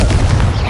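A Confringo blasting curse in Hogwarts Legacy lands as a single loud, dense blast that fills the whole brief moment with heavy, close rumble.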